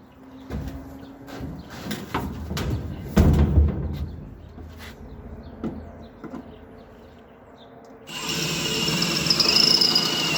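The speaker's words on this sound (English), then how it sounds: "Anytime you drill through metal, it always helps to have a good bit." Power drill fitted with a cobalt bit boring through thin metal while a diesel transfer tank is installed, a loud high-pitched whining grind that surges in near the end after a stretch of scattered clanks and handling noise.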